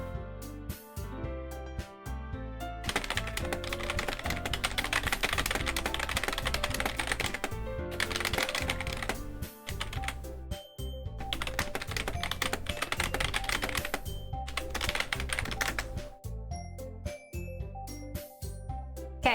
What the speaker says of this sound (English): I was just typing in the YouTube chat